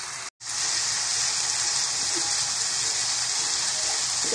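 Masala being fried in a pan over a medium flame for Hyderabadi-style egg malai korma, a steady close sizzle and hiss running unbroken after a brief gap at the start.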